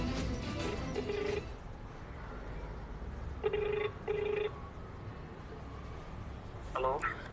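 Telephone ringing for a call, with repeated short electronic ring bursts at intervals under a noisy background while a person speaks.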